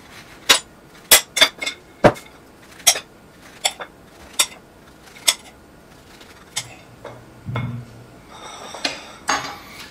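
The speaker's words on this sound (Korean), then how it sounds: "자, 제일 먼저 레몬을 잘라 볼게요." A knife chops a lemon on a cutting board while preparing a highball, giving about a dozen sharp, close taps at an uneven pace, followed by a few softer knocks and scrapes near the end.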